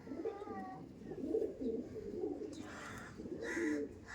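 Pigeons of Andra and Chennai Madras breeds cooing close by in a loft, several soft throaty rolling coos overlapping in quick succession, fairly quiet, with no talking.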